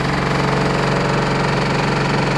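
An LG F14A8RD washing machine makes a loud, steady mechanical knocking and rumbling, a rapid continuous hammering rattle that holds constant and close throughout.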